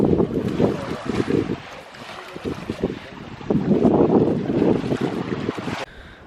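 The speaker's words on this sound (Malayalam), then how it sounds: "ഇനി ഈ ബോട്ടേ നമ്മൾ നേരെ ബംഗാരം പോവാണ്." A boat crossing open sea toward Bangaram, its engine and hull rumbling in uneven surges with wind buffeting the microphone and water splashing, fairly loud and continuous before dropping off near the end.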